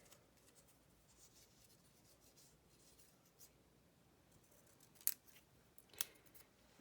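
Scissors snipping paper during a New Year's Eve craft session: quiet rustling, then two faint, crisp cuts about a second apart near the end, close and with no talking.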